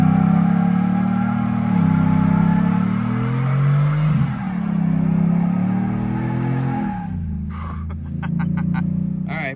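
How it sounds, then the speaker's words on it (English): A 2024 Ford F150 on stock tires does a burnout, its engine revving hard and close with a rising, wavering drone that dips and surges, then a brief break near the end before roaring again. "Got to get us one last burnout on the stock tires."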